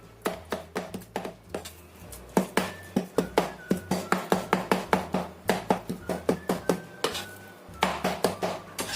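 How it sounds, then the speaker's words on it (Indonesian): Prawn egg roll filling chopped finely by hand with a knife: a fast, steady run of sharp, close knocks on a cutting board, with only brief pauses between bursts. "Ini aku akan cincang aja semuanya hingga tercampur rata"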